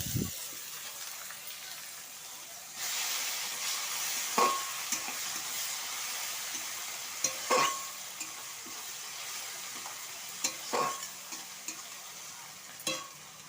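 Garlic paste frying in a pan of lightly browned onions for chicken curry masala, a steady close sizzle broken by sharp spoon scrapes and clinks as it is stirred, with no voices.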